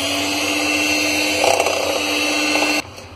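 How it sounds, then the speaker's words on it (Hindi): Pancake batter of flour and milk being beaten with a whisk or electric beater, a steady loud whirring drone that holds for nearly three seconds and then cuts off abruptly. "और इसे अच्छी तरह हम फेंट लेंगे"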